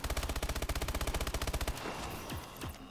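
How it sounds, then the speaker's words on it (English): Rapid automatic gunfire in the Exo Zombies mode on the Carrier map, a fast loud burst of evenly spaced shots for nearly two seconds, then scattered fainter impacts and game effects. "this is very stupid of me to be shooting right now"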